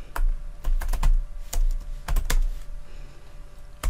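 Quick bursts of clicky keystrokes on a computer keyboard while writing code, irregular clusters of taps close to the microphone with short pauses between them and no talk.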